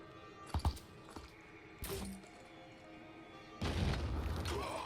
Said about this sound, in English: We'll take a single grenade over here and see if we can get lucky.